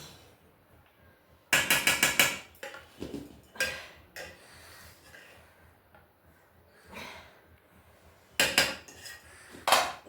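Hot biryani is served from a pot, with clusters of loud metal spoon scrapes and clanks against the pot and plate separated by quiet pauses, close by.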